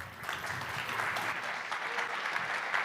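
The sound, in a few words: audience applause at conference talk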